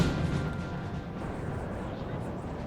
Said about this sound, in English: And actually all the cannons are firing.